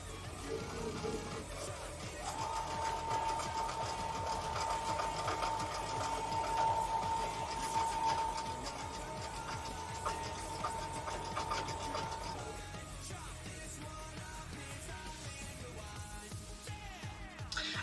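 A sewing machine stitches on a folding table, giving a fast, even mechanical whir and rattle with a steady whine, then slows and stops into quieter clicks and handling noise.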